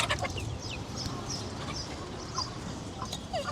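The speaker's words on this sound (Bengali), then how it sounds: "আমাদের মুরগি হাঁসগুলোকে খাবার দেওয়া শুরু করে দিছি" Chickens and ducks at a newly built poultry house cluck and chatter while being fed, several birds close by with short repeated calls over a steady farmyard background.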